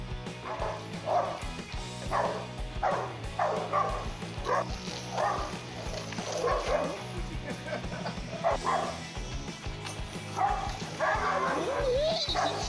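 A dog yips, barks and whimpers in repeated short bursts while confronting a goat, with an unrelated voice narrating over the commotion.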